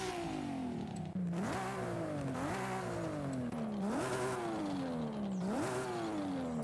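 A Nissan R34 GTR with an upgraded exhaust in the driving game Forza Horizon 5, revving loudly and steadily through four rising sweeps with brief drops between them, with no talking.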